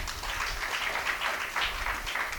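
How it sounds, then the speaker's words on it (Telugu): A church congregation applauds a sermon with steady, dense clapping from many hands. The applause runs continuously at moderate volume with no pauses. "గట్టిగా చప్పట్లు కొడదాం."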